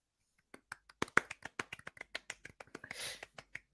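A small group gives quick, scattered hand claps in a studio setting, about twenty sharp claps in under four seconds, close and fairly loud, briefly joined by a breathy hiss.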